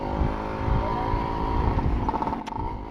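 Ported Suzuki Shaolin motorcycle with a chamber exhaust and five-speed gearbox, idling nearby with a steady buzzing two-stroke drone and a brief sharp blip near the end.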